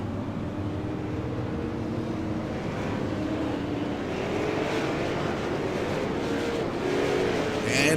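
Stock car engines in a Tundra Super Sim Series race at the Las Vegas Bullring drone steadily as the field bunches double file behind the pace car, a continuous loud rumble with rising revs, under a commentator's voice.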